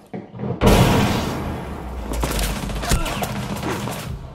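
Gunfire and impacts in the video game Rainbow Six Siege, a sudden loud burst of shots followed by crashing, rattling hits through a wall, fading into scattered thuds.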